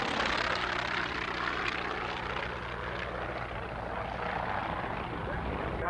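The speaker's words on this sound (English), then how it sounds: "A formation of T-28." A formation of T-28 propeller airplanes passing at a 1989 Fort Lauderdale air show, a loud, continuous engine roar with a deep droning hum, steady throughout.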